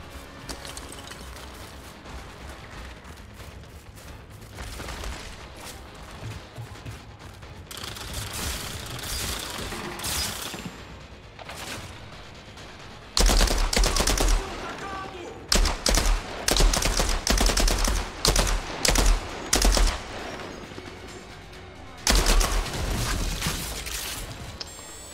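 Bursts of rapid gunfire in the video game Outriders crackle in clusters over a mechanical background, growing louder and denser in the second half.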